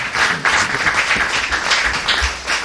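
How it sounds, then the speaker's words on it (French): Audience applause at a Congolese diaspora gathering in a library hall: dense, steady clapping from many hands filling the room, moderately loud and continuous with no pauses. "vous pouvez applaudir"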